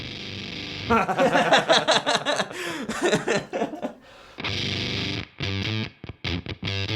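A heavily distorted, sputtering electric guitar tone through a fuzz pedal, with choppy bursts and gated stops, loud and up close, playing alone.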